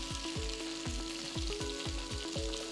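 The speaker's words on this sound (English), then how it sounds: "Roast the vegetables for just about 2 minutes." Onion and green and red capsicum wedges sizzling steadily in a hot pan, with a regular series of soft scraping stirs cutting through the crackle, close and fairly quiet.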